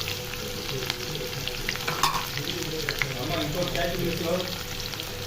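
Onions and green chillies fry in a pan for hotel-style cauliflower fry, a dense continuous sizzle with occasional stirring scrapes, close and fairly even throughout with no talking.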